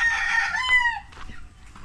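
A rooster crows loudly and close, one long drawn-out call, and clucking from farm chickens follows it with no talk over the sound.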